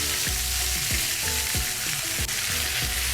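Bean sprouts frying in hot sesame oil, a loud, steady sizzle with periodic stirring scrapes close up and no voices.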